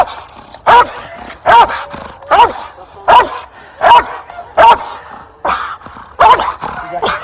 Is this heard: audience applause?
no